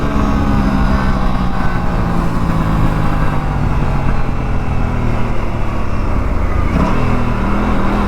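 An Aprilia RS457 motorcycle pulls hard from first gear using its quick shifter, its engine droning loud and close with a clean gear change near the end as revs drop and build again, and no voices.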